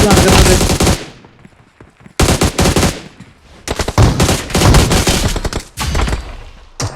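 Loud, rapid machine gun bursts in the video game PUBG follow one another closely, rattling fire with brief pauses between volleys.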